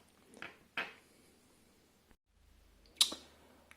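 Small plastic clicks and snaps as a plastic e-reader case snaps shut, a couple of light taps followed by a sharper, louder snap near the end, close by and otherwise quiet.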